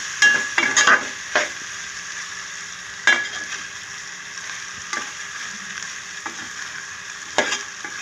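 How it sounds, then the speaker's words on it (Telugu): Cashews sizzle and fry in a pan with mutton, a steady close hiss broken by several sharper bursts of crackle as the pieces are stirred, with no talking. "చక్కగా మనకి జీడిపప్పు కూడా మనకి బాగా ఫ్రై అవుతుంది"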